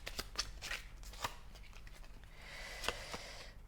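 Tarot cards being shuffled make soft, close riffling and sliding with several sharp flicks and snaps spread across a few seconds and no talk.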